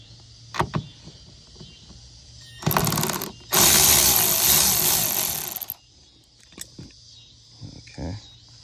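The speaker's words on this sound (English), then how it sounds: "So now we're gonna take the bolts out." Power tool work loosening bolts on the quarter glass of a 2013 Hyundai Sonata: a short mechanical whir, then a longer, louder burst of about two seconds, close by, with quieter clicks and handling sounds between.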